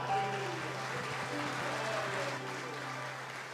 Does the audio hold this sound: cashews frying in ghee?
no